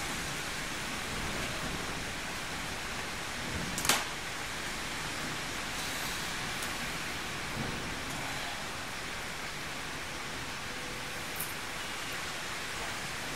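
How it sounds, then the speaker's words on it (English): Steady hiss of rain falling in the game Age of Conan: Hyborian Adventures, with a brief louder splash or crackle near the start and a faint tick later. "Well, the rain's back."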